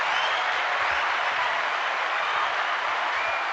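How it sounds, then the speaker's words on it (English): Dense, sustained applause from a crowd fills the whole stretch, loud and even, with no talk over it. "Round of applause for the participants there."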